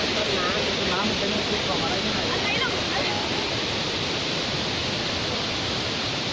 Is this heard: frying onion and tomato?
no